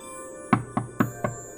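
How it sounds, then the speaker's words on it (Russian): Four sharp knocks land on the door of Santa's house in a Christmas story, close and evenly spaced, with nothing else heard around them. "Вскоре он услышал стук в дверь."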